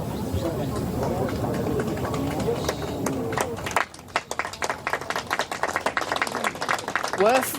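Golf spectators at the final round of a women's LPGA tournament in Shanghai clap after a great shot, a scattered outdoor patter of hands, with commentary heard over it.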